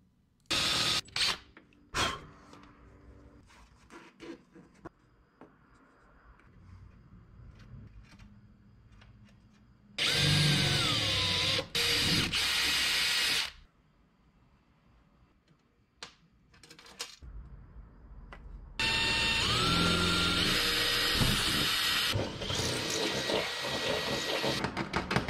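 Two loud bursts of a power drill whining at close range as it drills holes in an aluminum car roof, each lasting a few seconds, separated by quieter clicks, handling noises and faint background hum.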